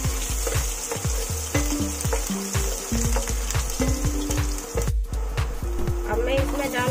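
Cumin, finely chopped garlic and green chillies fry in hot oil, a loud steady sizzle with repeated stirring scrapes and a brief louder burst midway, without any talk.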